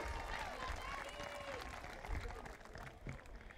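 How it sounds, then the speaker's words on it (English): Audience applauding cheerleaders, the Javelinas cheer squad, at a school team introduction event; steady crowd clapping throughout with scattered voices and cheers mixed in. "Another round of applause for our amazing cheerleaders."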